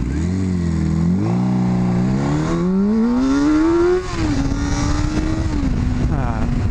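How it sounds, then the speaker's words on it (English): A motorcycle engine climbs in pitch as the rider accelerates hard into a power wheelie after a sprocket adjustment, revving up steadily for several seconds, then holding a high steady note; loud and close, with no talking. "Bike still power wheelies."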